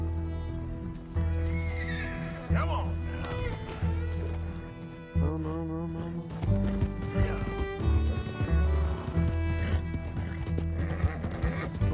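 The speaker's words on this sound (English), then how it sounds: "Vamos, cavalo." Galloping horse in the video game Red Dead Redemption 2, with rhythmic hoofbeats, loud whinnies and snorts over a musical game soundtrack.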